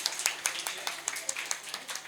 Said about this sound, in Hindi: जोरदार ताली है ना